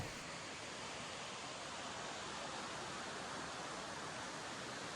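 Angel Falls, the world's tallest waterfall, in the Venezuelan jungle of Canaima National Park, a steady, dense roar of falling water that stays constant and unbroken throughout.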